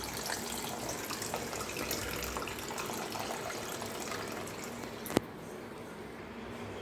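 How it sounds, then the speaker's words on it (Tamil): Water poured into a pan while making sukku kali, a dry ginger legiam, with a steady, fairly loud rushing splash running for about five seconds, then a sudden stop and a quieter tail. "இப்போது நம்ம இதுக்கு தேவையான அளவு நல்லா நிறையா தண்ணி ஊற்றிக்குவோம்."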